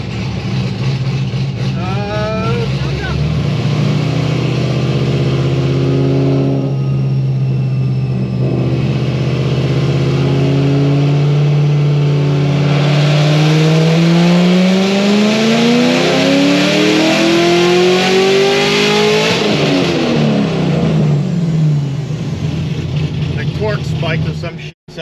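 A Corvette ZR1 built for 1000+ horsepower roars on a dyno pull, its loud, close engine note climbing steadily in pitch through a long run, then dropping away as the throttle closes near the end.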